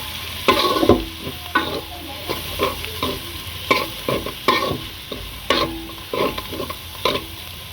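Noodles with turmeric fry in a pan on a low gas flame, the bottom slightly catching, with a steady sizzle under repeated scraping stirs of a spoon at a regular rhythm, close and loud.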